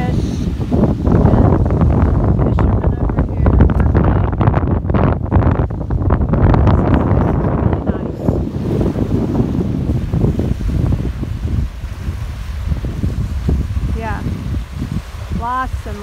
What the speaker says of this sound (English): the wind blowing like crazy, and just seeing the boats rocking